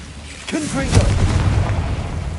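A Confringo blasting spell in Hogwarts Legacy goes off as a single loud booming explosion with a rumbling tail, following a short burst of spellcasting sound.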